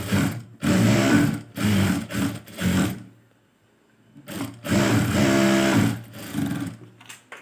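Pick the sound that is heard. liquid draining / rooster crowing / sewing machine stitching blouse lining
sewing machine stitching blouse lining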